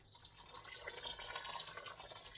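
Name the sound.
pouring water into a pot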